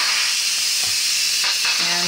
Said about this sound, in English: lift out, let the rest of the steam go